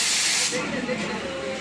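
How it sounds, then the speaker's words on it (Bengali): Heavy rain pours down near a railway crossing as a dense, loud, continuous hiss that fills the whole moment without any break. "গাইজ দেখো বৃষ্টি পড়ছে"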